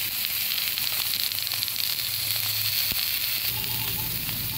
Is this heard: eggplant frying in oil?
yes